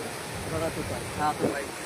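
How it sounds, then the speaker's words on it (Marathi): Water gushes out under pressure at a hill station, a broad, steady rushing noise close by, with brief voices in the background. "म्हणजे एवढं प्रेशर पाणी येते बघा ना"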